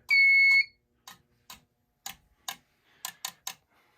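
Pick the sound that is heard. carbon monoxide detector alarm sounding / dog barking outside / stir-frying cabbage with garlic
carbon monoxide detector alarm sounding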